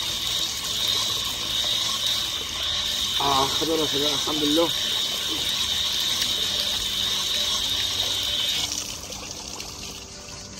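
Cool fresh water flowing from a mountain spring in Tajikistan, a steady splashing trickle running throughout, with a voice speaking briefly over it partway through.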